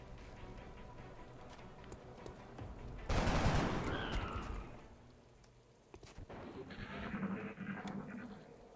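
A burst of gunfire in XCOM: Enemy Unknown, a loud cluster of crackling shots that erupts, then tapers off before a second, softer volley of rapid reports follows.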